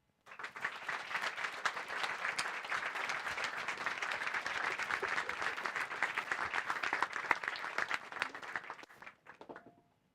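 An audience at the Oslo Freedom Forum 2024 applauding after a speech, dense sustained clapping from a sizable crowd for about nine seconds before tapering off into silence.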